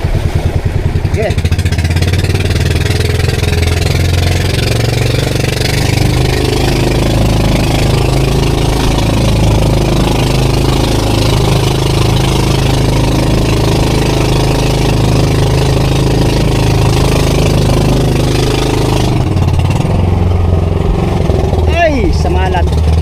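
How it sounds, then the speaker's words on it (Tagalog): A motorcycle engine idles roughly and steadily for a long stretch, its uneven knocking suggesting a misfire, with voices talking over it. "Palyado ang aking makina."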